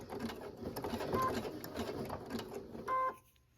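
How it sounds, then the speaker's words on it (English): A sewing machine stitches back and forth on a large Halloween oval rope bowl embroidery project, running steadily and close for several seconds before stopping with a short tonal whir near the end. "I definitely wanna do some stitching back and forth here"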